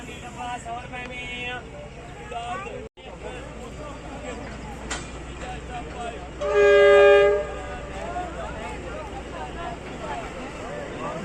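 The Jaffar Express, a Pakistani passenger train bound for Lahore, rumbles as it departs, with a loud horn blast sounding for about a second partway through over steady rail noise and a murmur of voices.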